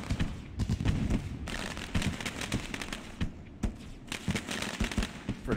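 Fireworks at Knoxville dirt track in the iRacing sim, a rapid run of sharp crackling bursts and pops in irregular clusters with short pauses between, fairly close and loud, no voices.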